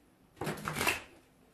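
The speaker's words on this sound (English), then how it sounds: "Okay, let me shuffle these." Tarot cards are shuffled in one soft, brief riffling burst about a second long, close and quiet, with silence before and after.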